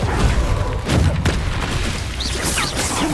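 A Confringo fire spell explodes in Hogwarts Legacy, loud booming bursts layered over ongoing combat noise and effects, with a shout-like voice briefly mixed in.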